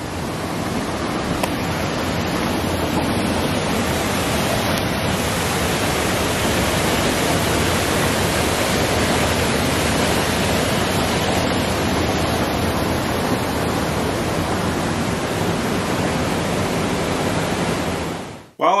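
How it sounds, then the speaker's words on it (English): Water rushes hard over the edge of a small waterfall at Rock Creek Falls, about five feet deep, making a steady, loud, unbroken roar that fills the whole stretch with no voices. "The water right there is rushing hard, and there's a waterfall right at the edge of it"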